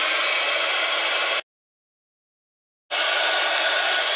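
A heat gun blows a steady, loud, hissing roar for heating embossing powder, cuts out completely for over a second, then starts again at full strength.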